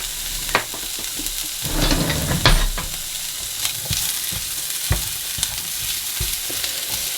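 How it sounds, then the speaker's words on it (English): Onion frying in low-calorie cooking spray in a pan for egg fried rice, a continuous close sizzle broken by scattered utensil scrapes and clinks as it is stirred, with no talking. "I'm going to put my onion in. And we're just going to cook that down"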